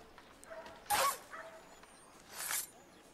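A dog barks twice in a video game, two short sharp yaps about a second and a half apart, fairly close and clear, with no talking.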